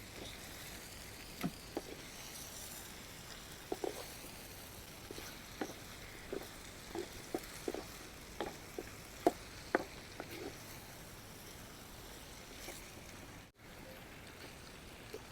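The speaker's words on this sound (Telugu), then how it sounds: "ఈ చికెన్ వేసుకొని ఒకసారి కలుపుకుందాం" Chicken being stirred with gongura leaves in a pan, a soft continuous sizzle broken by scattered scraping and clinking strokes of a spoon.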